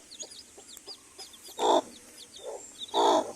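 Backyard chickens and chicks cluck close by, with several short, full clucks standing out over a steady scatter of high, thin chick peeping.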